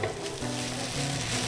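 Rice for crab fried rice is stir-fried in a hot wok, a brief, even hiss of frying with light stirring underneath, heard up close without talk.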